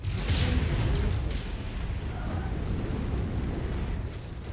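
A missile blast in a mech combat video game is a heavy, rumbling explosion that stays loud and dense across the whole moment, followed by a long roaring decay with no break.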